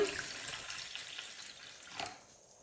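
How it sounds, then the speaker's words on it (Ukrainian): Hot water is poured into a bowl in a home kitchen, a short close splashing pour that fades out after about two seconds. "Я наливаю в миску гарячої води."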